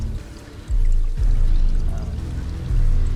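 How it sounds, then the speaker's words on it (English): Game water effect as a player rises out of water and water streams down: a heavy, close pouring rush that swells in and keeps flowing, with no talk over it. "You get this cool like water effect when you rise out, so you get water coming down."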